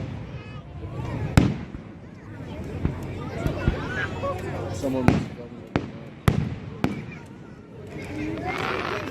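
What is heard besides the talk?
fireworks exploding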